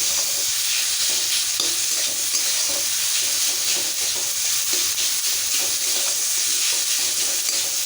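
Boiled yam with salt being stirred in a pan: a close, continuous sizzle with a steady scraping and stirring texture throughout, fairly loud and with no voices.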